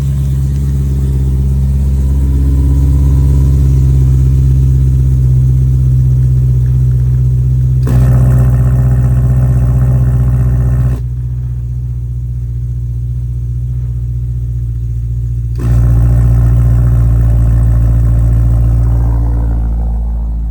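A BMW E90 M3 V8 with exhaust clips idles cold with a deep, steady low rumble, its tone shifting in level a few times with no sharp revs.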